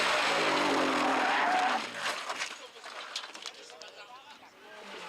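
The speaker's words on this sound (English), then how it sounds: "Heavy crash at the end of stage 5" A rally car in a 2014 British Rally Championship stage skids hard and crashes at the end of stage 5, a loud burst of scraping noise that cuts off and gives way to scattered clatter and crowd noise.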